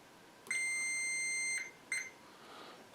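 A multimeter on a continuity test gives a steady electronic tone that lasts about a second, then a brief second beep follows in a quiet room.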